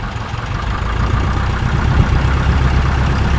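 A Taylorcraft BC12-65 light airplane's piston engine idles steadily at around 1,000 RPM with a little throttle, a continuous close, loud low rumble with no talking over it.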